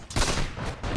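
A rifle shot from the Sniper hero in DotA 2, a sharp gunshot burst followed by a second crack near the end, close and punchy over game ambience.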